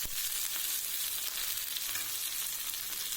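Garlic, onion and tomato sizzle steadily in a hot pan for a tamarind okra curry, a dense, even crackle close by with faint stirring, and no voices.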